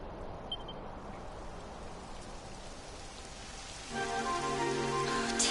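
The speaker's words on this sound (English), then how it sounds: "It would have to go and start raining, wouldn't it?" Rain begins falling in a video game, a steady broadband patter of drops that thickens and grows louder after about four seconds, joined by a sustained tonal game ambience; no one speaks.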